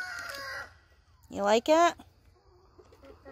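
Hens vocalize at a farm coop with drawn-out, rising squawking calls between softer clucks, close to the microphone, while a person speaks briefly over a low background rumble.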